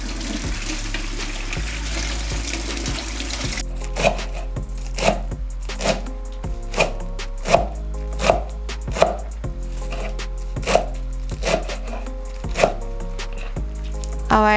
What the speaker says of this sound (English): we're going to wash this first and cut them into small pieces